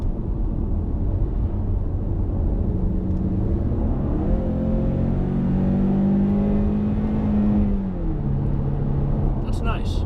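A 2015 Ford Mustang EcoBoost 4-cylinder accelerates in sport mode on an open road, the engine note rising steadily in pitch as it pulls through a gear before dropping off near the end, heard from inside the cabin.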